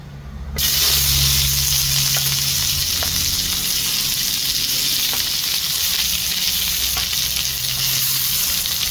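Satay chicken sizzles in a wok over a fierce wok burner, a steady loud frying hiss that starts abruptly and runs continuously, close and alone with no talk.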